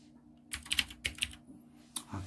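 Clacky keystrokes on a mechanical keyboard come in quick uneven clusters, crisp and close, with short pauses between bursts and no voices.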